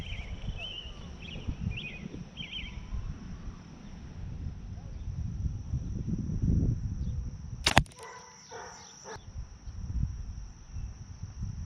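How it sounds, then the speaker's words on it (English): A Trophy Ridge Alpha React compound bow, arrow nocked, is drawn back outdoors amid steady insect chirping, with a sharp brief snap of string or cam near the middle followed by faint mechanical rattles. "So I got my arrow knocked, I got my Fletcher draw point here. I'll go ahead and draw back"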